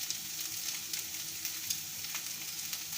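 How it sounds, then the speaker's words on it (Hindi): Potatoes frying in a pan with ginger and fresh coriander, a steady close sizzle with crackling bursts throughout and no talk. "मुश्किल से 2 से 3 मिनट ये आलू को फ्राई करना है"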